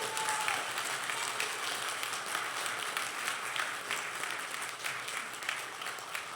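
Applause from an audience at an Olympian program celebration, fairly faint and distant, with scattered individual claps standing out in a steady patter.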